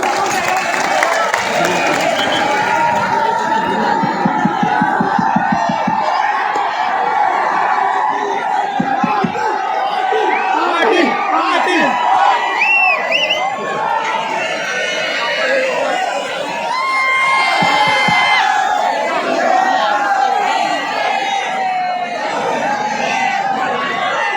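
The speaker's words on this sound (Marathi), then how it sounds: "जोरदार टाळ्यांचा गजर." A large crowd roars and claps loudly and continuously at a peace rally in Beed district, with people packed on all sides. Dense cheering and chatter run throughout, with sharper clapping bursts near the start.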